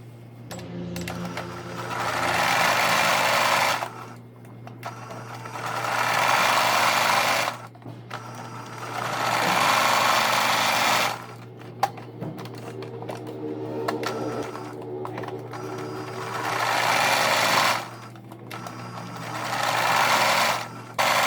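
A sewing machine stitching round a fabric Easter basket with ears, its motor whirring in long loud bursts separated by short pauses, a low steady hum underneath, close up and with no talking.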